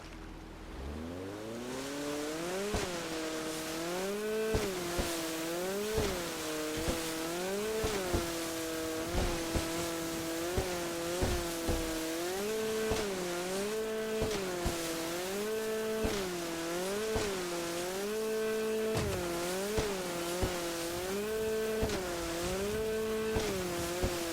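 A car engine in the GTA 5 video game drones steadily while driving around, its pitch rising and falling in repeated revs and gear shifts over a continuous road noise, with no talking.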